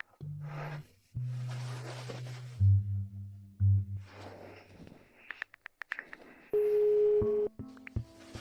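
Telephone tones from a drama call: several steady low beeps and held tones in sequence, with short pauses and a few clicks, fairly quiet and with no talking.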